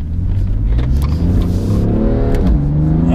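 A BMW M3 engine and exhaust revving loud and close, a deep sustained roar whose pitch climbs and falls as the throttle is worked.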